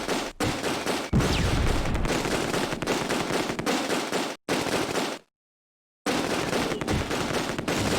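Heavy machine gun in the wartime tactics game Close Combat: A Bridge Too Far hammers out continuous loud bursts of gunfire, with one brief drop and about a second of dead silence before the firing resumes.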